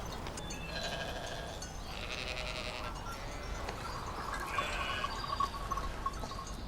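Sheep bleat repeatedly in a pasture, several animals calling over steady outdoor background noise, with a few louder bleats toward the end.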